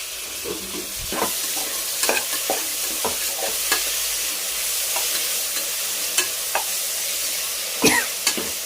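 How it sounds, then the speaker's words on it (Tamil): Tomatoes sautéing in a pan for tomato rice, a steady bright sizzle with intermittent scraping clicks of a spoon stirring, close and continuous with no talking. "நல்லா வதக்கிக்கோங்க. தக்காளி நல்லா வதங்கட்டுமா."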